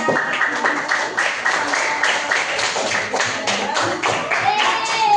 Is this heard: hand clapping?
yes